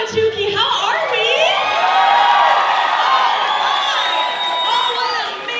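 An enthusiastic crowd at an evening Kari Lake campaign rally in Awatukee cheers, whoops and shouts loudly and continuously, swelling in the middle before easing slightly, with no clear speech over the roar.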